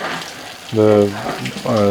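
Low-pressure, gravity-fed water hose spraying pigs in a barn, a steady hissing wash broken by loud harmonic squeals from the pigs.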